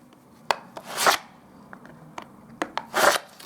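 Wood filler being rubbed into cracks in woodwork, with two bursts of gritty scraping and rasping, close and dry, separated by light taps and knocks, no talking.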